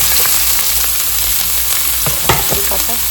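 Halved onion frying in a pan, a steady dense sizzle with scattered crackles and a few stirring scrapes, close and fairly loud, no voices.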